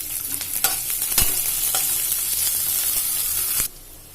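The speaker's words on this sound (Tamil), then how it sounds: "அதில் ஒரு 5 பச்சை மிளகாய், ஒரு கொத்து கருவேப்பிலை ஆட் பண்ணிவிட்டு வதக்கி விட்டுக்கலாம்." Green chillies and curry leaves sauté in a hot pan for raw banana podimas, giving a loud, steady, close sizzle with a few sharp stirring clicks before it abruptly cuts out near the end.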